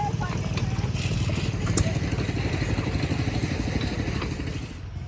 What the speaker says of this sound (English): we got multiple of these pumps set up running off of one engine here